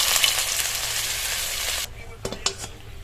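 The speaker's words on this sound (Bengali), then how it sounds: "পরেরগুলো একইভাবে কিন্তু দিয়ে ভেজে নেব।" Potato snacks deep frying in hot oil, a loud dense crackling sizzle that suddenly drops away, followed by a few sharp clinks and scrapes of a utensil against the pan.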